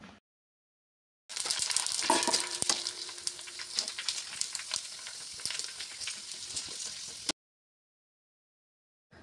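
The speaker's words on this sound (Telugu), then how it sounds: "ఇప్పుడు అలాగే అన్నిటిని తీసుకొని మొత్తం ఇలా ఫ్రై చేసుకోవాలి స్లోగా కలుపుతూ" Puri chaat masala mixture fries in hot oil as it is slowly stirred, a steady bright sizzle lasting about six seconds with faint stirring scrapes, bracketed by silence.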